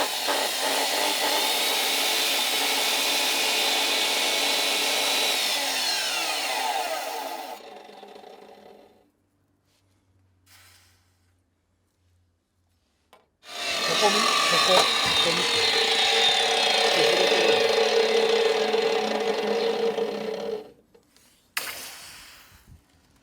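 A part of an antique clock is ground flat during repair: two sustained, close, harsh abrasive runs of about seven seconds each, separated by a quiet pause, with a brief scrape near the end.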